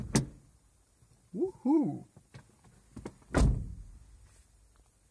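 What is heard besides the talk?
car door opening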